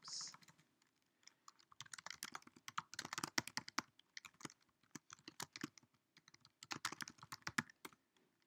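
Quiet, close typing on a computer keyboard while setting up a game in game-logging software, bursts of rapid key clicks separated by short pauses.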